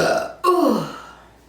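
A loud, extreme burp after drinking beer and Canada Dry ginger ale: one short throaty gulp, then a long deep croaking belch that slowly fades, heard up close.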